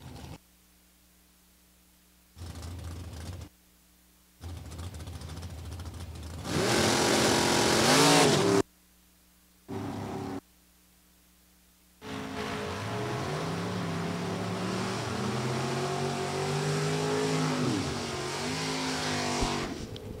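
NHRA drag racing cars, a Ford and a Chevrolet, launch at a strip: bursts of loud engine roar and revving between pauses, then a sustained thundering run with pitch sweeps as they accelerate away.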